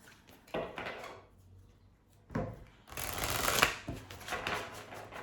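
Tarot cards are shuffled and picked from the deck in a few quick, papery bursts separated by short pauses, close up and fairly quiet.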